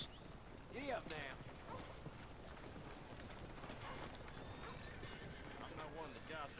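A horse in Red Dead Redemption 2 whinnies once near the start, then its hooves clip-clop steadily through the rest as it moves along, at moderate volume with game ambience.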